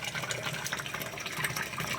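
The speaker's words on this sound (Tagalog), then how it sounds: "Ito na lang yung pinupuno natin. Ayan oh. Lakas na ng tubig." A strong stream of pumped well water filling a container, a steady close gushing and splashing rush that stays loud and even throughout with no voices.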